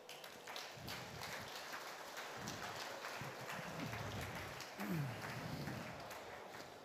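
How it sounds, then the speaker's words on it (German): Audience applause for an animal presenter at a livestock sale event: a steady, fairly faint wash of clapping that carries on evenly for several seconds with a slight swell near the end. "Einen grossen Applaus."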